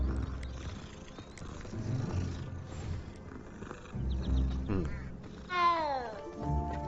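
Cat meowing in the Hogwarts Legacy video game, a short rising-falling meow near the end over busy game music and ambience.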